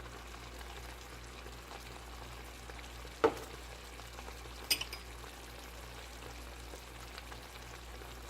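Kielbasa and tomatoes sizzle quietly in a skillet, a soft, steady frying hiss with a couple of sharp utensil clinks partway through.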